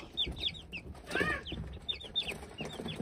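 Young Kuchinsky chicks peep and cheep in a quick, faint, high-pitched stream, with a slightly louder cluck-like call near the middle and no voices.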